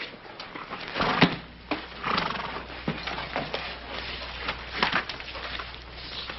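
A horse whinnies amid clip-clopping hooves and shuffling, with sharp intermittent knocks; the sounds are moderately close and fairly faint.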